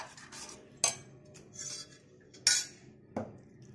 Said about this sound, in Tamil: இப்போ நம்ம கட் பண்ணி எடுத்து வச்சிருக்கிற சிக்கனை வந்து உள்ளே மிக்ஸ் பண்ணிக்க போகிறோம்